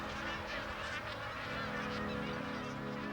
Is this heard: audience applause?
no